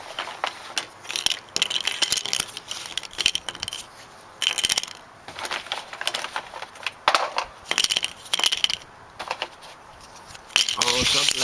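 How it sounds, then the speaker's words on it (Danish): Cardboard board-game tiles from Den Fortryllede Labyrint being shuffled face down on a table, giving a continuous close scraping and clattering rustle, with some irregular louder bursts. "Og så blander vi dem lige."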